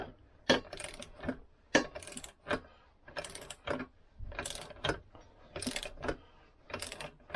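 A screwdriver fed through a hole tightens a part on a 1964 Lambretta Li125 scooter, producing close, repeated metallic ratcheting clicks and scrapes in short irregular bursts.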